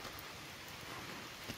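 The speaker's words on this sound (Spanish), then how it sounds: "bajo lluvia, mi gente" Steady rain patters down in a continuous soft hiss, fairly faint, with no voices.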